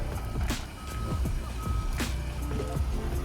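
A driverless 2023 Hyundai Santa Fe Ultimate Calligraphy creeps along on remote Smart Park, with repeated steady warning beeps over a continuous low engine and road hum.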